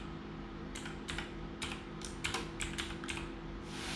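Computer keyboard typing in bursts of quick keystrokes, close and moderately loud over a steady low hum, with no talking.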